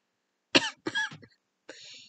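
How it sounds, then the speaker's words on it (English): A man coughs and hacks in three harsh bursts, two close together and then a thinner, raspy one after a pause, loud and near with no other talk. "He coughed and hacked successfully."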